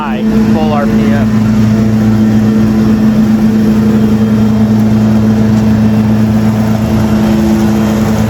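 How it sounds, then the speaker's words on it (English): Cyclone Rake motor running at full RPM, a loud, steady engine drone with a constant hum throughout and no break in pitch. "Turn the RPM up on the Cyclone Rake motor"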